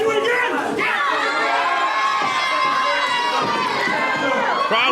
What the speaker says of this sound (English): I never thought I would hear the crowd cheering for Diego Alvarez